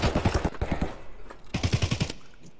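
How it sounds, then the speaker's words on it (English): Automatic gunfire in Escape From Tarkov, rapid bursts of sharp shots at moderate distance, two separate strings with a gap between them, no voices. "You hear those shots?"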